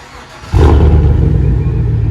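Chevy Silverado 5.3L V8 kicks into a loud, deep rev through an aftermarket exhaust after a quiet lead-in, then holds a steady, throaty rumble close to the mic.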